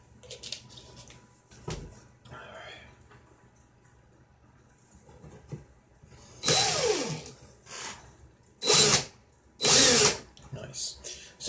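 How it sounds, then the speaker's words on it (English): Power drill spinning a swivel for winding coils, a few loud whirring bursts near the end after quieter handling sounds, close by. "I just turned my drill and made sure that that swivel's turning"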